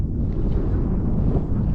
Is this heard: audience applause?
no